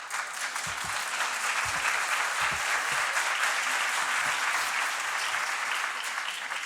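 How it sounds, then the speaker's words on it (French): Dense, sustained audience applause from a crowd, loud and steady throughout with no talk over it. "ils vont pas le déranger s'ils applaudissent comme ça"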